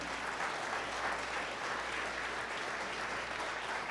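Steady congregational applause for the Lord fills a church service, a dense, even wash of clapping that holds at a constant level for the whole stretch without pause.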